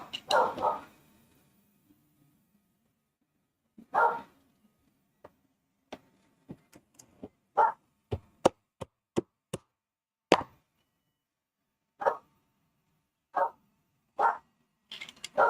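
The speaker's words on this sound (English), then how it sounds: "Dog, shut up." A dog barks indoors during a morning 3D-printing session, several separate barks spread irregularly across the stretch, with sharp mechanical clicks and taps from handling printed parts between them and no talking.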